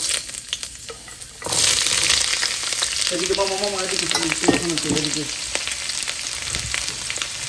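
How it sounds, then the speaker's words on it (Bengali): Soybean chunks drop into hot oil in a pan for a macaroni dish, setting off a sudden loud sizzle that keeps hissing steadily, with brief talk partway through. "তো এখানে তেল গরম হয়ে গেছে তো তেলের মধ্যে দিয়ে দিচ্ছি"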